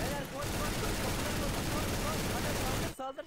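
Gunfire in a CS:GO JailBreak round: dense, continuous rapid shooting fills almost the whole stretch, loud and constant, then cuts off abruptly near the end.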